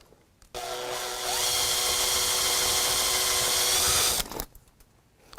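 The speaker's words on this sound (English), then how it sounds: "get a drill and just quickly drill out this rivet" A power drill with a 1/8 inch bit whines steadily for about three and a half seconds as it drills out a metal rivet on a Chrysler Crossfire, close and loud, then stops abruptly.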